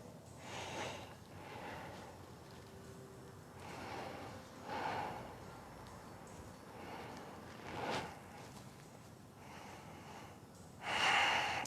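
Slow, audible breaths during a yoga flow, deep inhales and exhales into the belly repeating every few seconds, soft and close with a stronger breath at the end.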